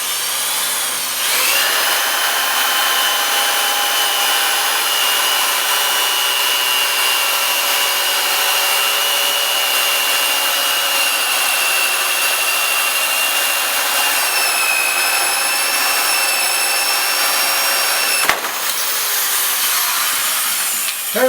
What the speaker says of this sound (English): I'm going to bore a 1-inch knot hole out here